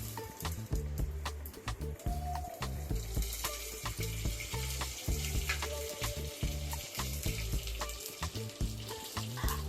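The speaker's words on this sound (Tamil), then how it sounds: "கடுகு, உளுந்து, சீரகம் போட்டு பொரிய விடுங்க." Mustard seeds, urad dal and cumin frying in hot oil for a Tamil village-style fish curry: a dense, steady sizzle with rapid crackling and popping, close and continuous throughout.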